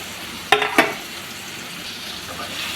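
Beetroot masala is sautéed in a pan: two quick utensil scrapes and clinks stand out early, then a soft, steady sizzle carries on underneath. No one speaks.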